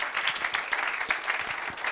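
Audience applause for a lecturer after a talk on optics and geometry: steady, dense clapping from a room of people, moderately loud and continuous for the whole moment with no talk over it.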